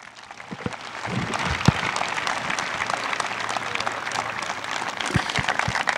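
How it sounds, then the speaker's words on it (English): Audience applause at a school dedication event honoring the athletic director, a steady wash of many hands clapping that swells after the first second and holds at a moderate, fairly distant level. "Can we please give a big round of applause to our athletic director, Ron Richards?"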